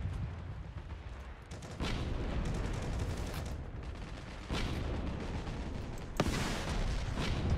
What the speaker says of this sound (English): Someone exploded my vehicle.